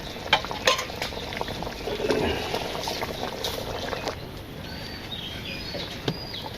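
A village cooking pot of potato curry bubbles steadily as it cooks down, a soft continuous simmer with occasional spoon stirs and faint birdsong in the background.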